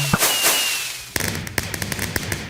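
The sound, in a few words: fireworks exploding in Minecraft video game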